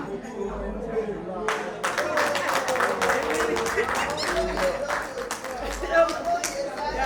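Audience applause welcoming guests at a nursing school alumni anniversary event, steady crowd clapping filling the room for several seconds with some voices mixed in.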